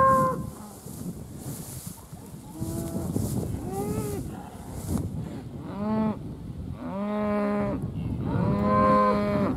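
Several cows moo repeatedly, long low calls overlapping one another, some near and some farther off, over a rustling outdoor background.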